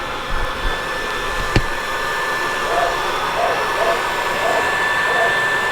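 A hair dryer blows steadily in a homestead barn to warm a sick animal under heat lamps, a constant close airy whoosh with a faint high whine and one brief knock partway through.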